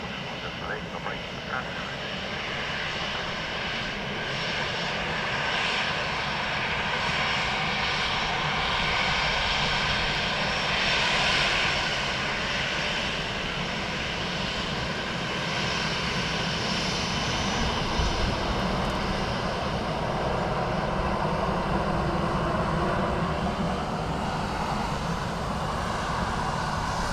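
A Ryanair airliner lands on runway 28 left at Dublin Airport, its engines a steady broad roar swelling gently and then holding, heard close and continuous for the whole stretch, with radio talk mixed faintly underneath.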